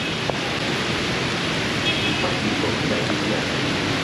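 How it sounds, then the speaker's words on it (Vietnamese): Heavy rain pours steadily on a Saigon street in Chợ Lớn, a dense, even hiss that stays loud and unbroken throughout. "Mà mưa này lớn á."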